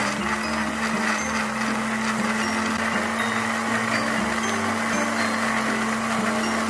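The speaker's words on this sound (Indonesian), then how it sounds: "Lalu blender cabai sampai halus." A steady, loud motorized whir with a constant hum runs without pause throughout, the grinding drone of a blender puréeing boiled chili peppers at full speed.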